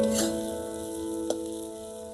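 Chopped onions sizzle in hot oil in a pan as garlic paste goes in, a steady close frying hiss with a single sharp crackle near the middle and no talk.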